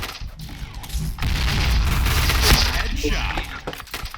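A loud grenade explosion in the video game PB booms and crashes with shattering debris, followed by rumbling and scattered gunfire-like bursts amid noisy action.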